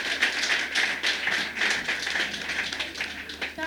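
An audience at a cultural sector event applauds, steady clapping of a moderate crowd close by for a few seconds with a faint voice underneath.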